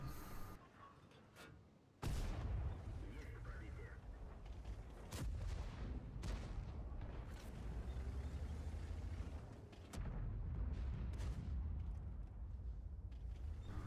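Tank shells striking and bouncing off armor in a tank combat video game with the Object Damage 4610 tank destroyer, heavy booming impacts at the start and again later over a constant loud rumbling engine drone, with no speech.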